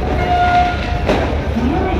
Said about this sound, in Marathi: ट्रेन आहे